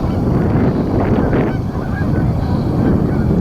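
A late-season snow goose honks at a wilderness park river valley, its calls rising out of steady wind noise and broadband outdoor rumble, with a few brief nasal honks clustered near the middle of the stretch.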